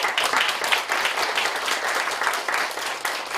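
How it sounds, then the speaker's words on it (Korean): Congregation applauding to welcome visitors at a Sunday church service, a steady dense wash of clapping from many hands that fills the whole stretch at a moderate level with no voices over it. "여러분들 우리 환영하면서 우리 박수 한번"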